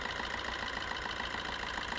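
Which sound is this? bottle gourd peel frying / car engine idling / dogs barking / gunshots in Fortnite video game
car engine idling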